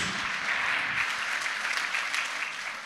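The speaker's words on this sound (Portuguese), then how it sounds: "Alguém pode aplaudir ao Senhor Jesus?" A church congregation claps for Jesus during a Portuguese-language sermon, producing a continuous, moderately quiet wash of many hands clapping with no voices on top.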